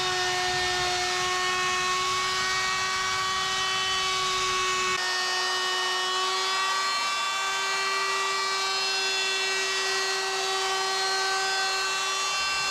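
A router on a sled flattens an end grain cutting board of maple, cherry and walnut. Its loud, steady machine whine holds on one pitch throughout, and the low rumble drops away partway through.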